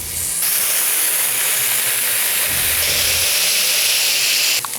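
A smash burger beef ball dropped onto a hot griddle gives a loud, steady sizzle and hiss that starts abruptly and holds for several seconds.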